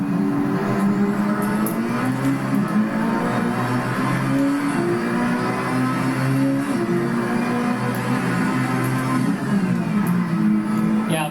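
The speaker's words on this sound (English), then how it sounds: "See how The car almost went to a complete stop right there when I brake." Porsche 919 Hybrid race car in a racing video game, a loud continuous engine whine with shifting pitch as it brakes and slows, with no other sounds over it.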